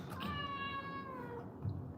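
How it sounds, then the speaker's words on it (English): A house cat gives one drawn-out, rising-then-falling meow, fairly soft and close in a quiet indoor room, with faint background noise afterward. "Rusty Cat is back in the house"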